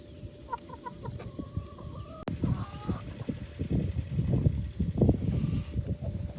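Backyard hens clucking and pecking while eating homemade sprouts, close by, with repeated short clucks and scratchy feeding noises, a few higher calls and a sharp knock partway through.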